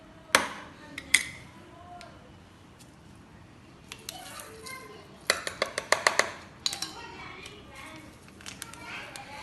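Raw kebab mince with spices being chopped with a knife on a board, sharp irregular knocks in short bursts, close and clear, with a faint voice in the background.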